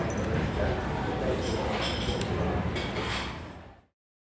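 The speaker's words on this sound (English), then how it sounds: "In a coffee bar, that would be cups or distant people talking." Busy coffee bar ambience: a steady wash of distant, overlapping chatter with light clinks of cups scattered throughout, fading out at the end.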